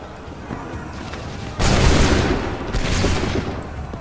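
Massed musket volley from a Revolutionary War battle at Lexington and Concord in the video game Assassin's Creed 3, a loud broadband crack bursting out and rolling on for about a second, then a second volley close behind.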